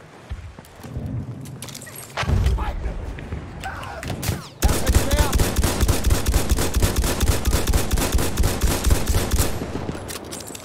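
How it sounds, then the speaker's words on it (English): Sustained machine gun covering fire in a World War One video game, a dense, loud, continuous rattle of rapid shots that takes over after a few scattered bangs and a brief gap. "Covering fire or whatever it's called."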